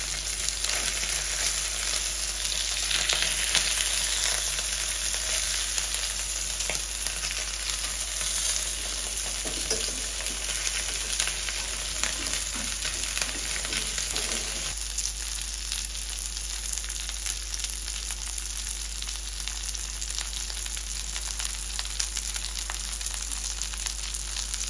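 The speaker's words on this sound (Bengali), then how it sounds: "খুব সুন্দরভাবে ভাজা হয়ে গেছে" Sea fish fry in oil in a regular (not non-stick) pan, giving a steady, even sizzle that holds across the whole stretch, fairly quiet and close, with no talking.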